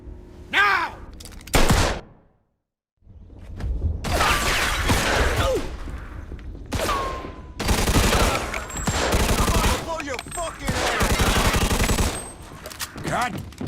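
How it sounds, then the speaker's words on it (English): Repeated bursts of automatic gunfire erupt during a shootout in the video game Mafia II. They are loud and close, come in clustered volleys with a brief silent gap early on, and voices are heard amid the shooting. "Vito, let's shoot this cocksucker"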